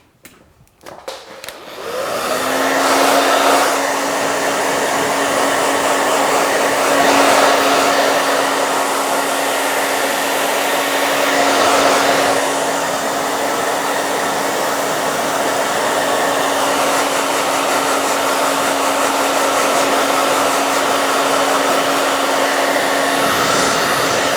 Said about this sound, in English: before we blow dry, we're just gonna stick the Pillow Proof Blow Dry Primer through her hair